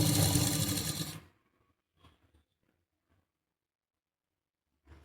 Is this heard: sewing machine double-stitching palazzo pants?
yes